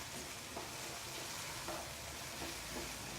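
Banana pieces sautéing in a pan for cupcakes, giving a steady, close sizzle with a few soft stirring scrapes and no talking.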